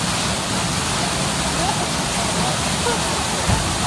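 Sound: water splash on Blackpool Pleasure Beach water ride

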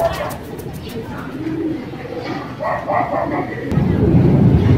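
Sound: racing pigeons returning home

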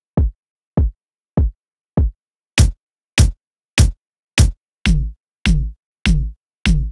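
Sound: dembo style kick drums in a moombahton beat

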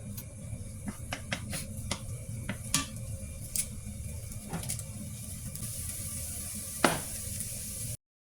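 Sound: garlic frying in hot oil

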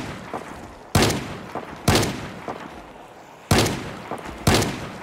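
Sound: gunfire shooting zombies in Project Zomboid video game

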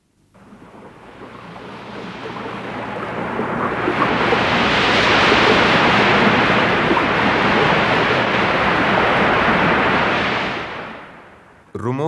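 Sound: pouring rain

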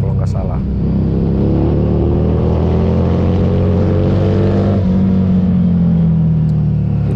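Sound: Harley-Davidson Street 500 motorcycle with aftermarket Vance & Hines exhaust

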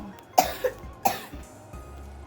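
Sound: child coughing

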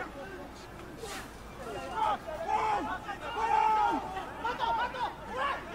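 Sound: stadium crowd cheering at Japan vs Samoa rugby match

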